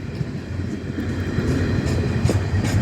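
A long steel train slowing on the track just past a switch, heard close by as a steady heavy rumble of wagons rolling by, with faint clicking from the wheels and no voices.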